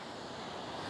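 Surf rolls in on a Kerala beach at Alleppey, giving a brief, constant rushing roar of breaking waves, with no speech and a faint touch of wind.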